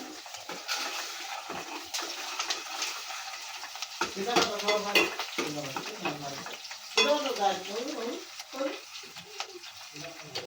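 Chicken pieces dropped into hot oil in a pan, sizzling and crackling steadily with bursts of spattering, while a voice talks over the frying.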